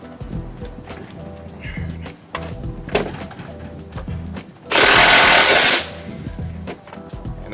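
An impact wrench with a weighted socket rattles a bolt loose during a Honda J-series timing belt replacement, one loud sustained burst of about a second amid quieter garage clatter and handling noises.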